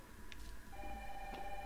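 A telephone ringing in the video game Resident Evil 3, a faint electronic trill repeating in short bursts over a low background hum, with no speech.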